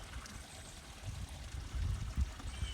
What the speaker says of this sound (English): Yeah, water's flowing.